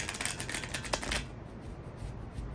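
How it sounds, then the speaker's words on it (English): A deck of playing cards is shuffled at the beach, giving a rapid close flurry of crisp riffling clicks for about a second before fading into quiet ambient noise. "I'm going to give it 2 shuffles"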